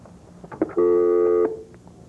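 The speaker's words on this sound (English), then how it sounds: "You going to answer that phone out there?" A telephone in an office rings once with a short electronic tone, fairly faint and alone, during a 1997 television news report.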